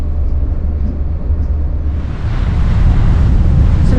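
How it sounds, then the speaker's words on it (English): A strong 20 to 25 knot wind buffets the deck of a Nordhavn 55 motor yacht in Alaska, a loud, continuous roar of gusts hitting the microphone over the rush of water and waves, building toward the end. "The winds are blowing about 20 knots, 25 knots. So that's why it's so windy when I get out there."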